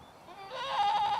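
A goat on Goat Island in Murrells Inlet, South Carolina, lets out a single drawn-out bleat that swells in loudness, heard close against quiet outdoor background.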